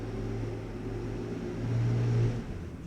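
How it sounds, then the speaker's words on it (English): A truck rolls past outside an open window in Jersey City, a steady low engine rumble that swells toward the end as it passes, heard indoors with no speech. "Windows open in Jersey City and a truck is passing."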